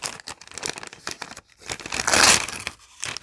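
Plastic wrapper or packaging crinkled by hand up close, a quick run of sharp crackling bursts that swells into a denser crunch near the end.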